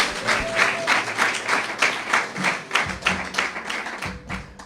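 A church congregation applauding the Lord during a family worship service, steady close rhythmic clapping from many hands with a few dull thumps, and some voices underneath.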